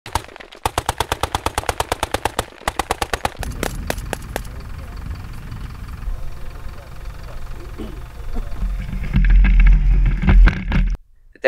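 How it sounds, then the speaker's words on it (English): A remote weapon station on a THeMIS unmanned ground vehicle fires live in rapid bursts of sharp, evenly spaced shots, followed by a rumbling engine and a loud roar near the end. "live fire testing of a THeMIS platform equipped with an ADA remote weapon station"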